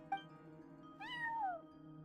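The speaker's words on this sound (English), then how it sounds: "No one except for a cat watching over the front desk." A cat watching over a front desk in the video game Genshin Impact gives a short chirp, then one clear rising-and-falling meow, close and alone over a soft steady background drone.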